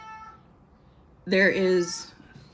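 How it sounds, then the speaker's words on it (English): A cat lets out a single drawn-out meow, fairly close and clear, after a quiet stretch with a faint tone fading out at the start. "So if you hear some meowing in the background,"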